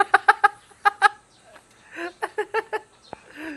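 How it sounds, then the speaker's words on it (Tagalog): A chicken clucks in quick bursts of sharp, repeated calls at close range, pausing briefly before another run of clucks. "Yan ang magandang manok, oh."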